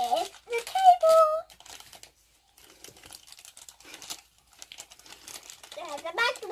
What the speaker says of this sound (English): Carry on unwrapping it.